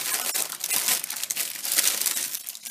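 A big plastic bag of planner stickers is handled close up, giving loud, continuous crinkling and rustling that rises and falls through the whole stretch.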